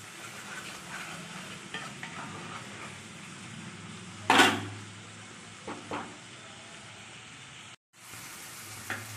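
Masala frying over a medium gas flame for jackfruit kima, a quiet steady sizzle under occasional stirring scrapes and one louder clatter of utensil against pan, close and without talk.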